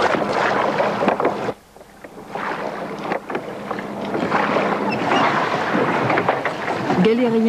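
An ancient Greek-style galley with oars and sail crosses the sea off Villefranche-sur-Mer, giving a steady rush of wind and water against the hull, loud and close, with a brief lull partway through.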